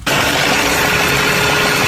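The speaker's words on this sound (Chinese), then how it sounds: "平衡轴异响" A car engine with a balance shaft noise fault starts up suddenly and runs at a loud, steady idle, a close, even drone carrying a faint constant whine.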